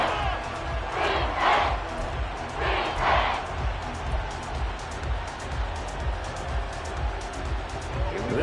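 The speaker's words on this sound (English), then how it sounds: "This crowd turning up the decibel level." A stadium crowd in an American football video game, Packers playing late in the game, roars as a steady wash of noise with two brief swells of shouting near the start.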